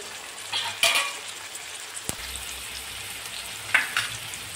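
Tomatoes are tossed into fried onions in a pan, giving a soft steady sizzle broken by a few sharp stirring scrapes and clinks of the spoon.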